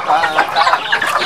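Chickens cluck in a rapid, overlapping run on a farm, several birds close by and fairly loud, with busy chatter filling the whole moment.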